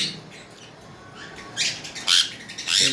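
A cockatiel gives a few sharp, high chirps and squawks, growing louder toward the end after a quiet start, with no talking.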